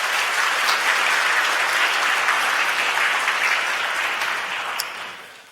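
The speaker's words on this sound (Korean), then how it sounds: "여러분들 환영의 박수 부탁드립니다." A church congregation at a Sunday worship service gives loud, sustained applause in welcome, a dense wash of clapping that holds steady before fading out near the end.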